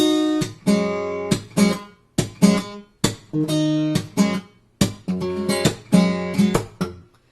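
Jazzy electric guitar chords from verse 4A of a song, played alone as a run of sharply plucked, ringing chords with short gaps, close and clear.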